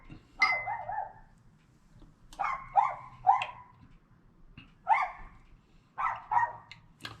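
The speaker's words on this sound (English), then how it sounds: "Wish that dog had shut up." A dog barks in the background of a home kitchen, giving several clusters of one to three sharp barks spaced a second or more apart, moderately loud against a quiet room with no speech.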